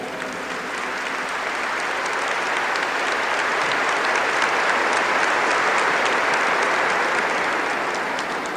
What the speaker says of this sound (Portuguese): So give the Lord a big clap.